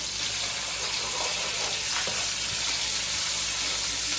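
Yellow rice ingredients sizzle in a pot, a loud, steady, even frying hiss that runs unbroken throughout with no voices.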